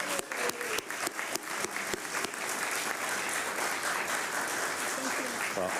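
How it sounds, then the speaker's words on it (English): Audience applause at a county commissioners' board meeting honouring an award recipient, beginning with a few loud separate claps and swelling into steady, fairly distant clapping from a crowd. "Please give Irene a round of applause"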